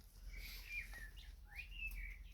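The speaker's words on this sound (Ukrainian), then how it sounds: "І пташки співають, і все." Bird chirps and whistled song notes ring out clearly over a steady low rumble on a spring homestead, a few phrases rising and falling.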